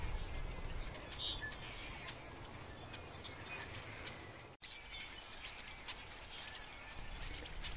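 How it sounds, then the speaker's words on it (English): Tricolored blackbirds call in open Central California countryside, with faint, scattered chirps and buzzy notes over a steady background hiss, distant and quiet. "Tri-colored blackbird."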